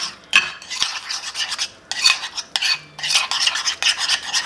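A spoon mixing vanilla into a cinnamon roll mixture in a bowl, brisk repeated scraping and stirring strokes, close and clear with no voices.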